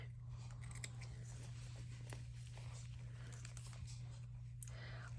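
Scissors cut fabric trim from thrifted baby clothes, giving soft, quiet snips and crunches at irregular intervals over a constant low hum, with a little faint voice and handling noise nearby.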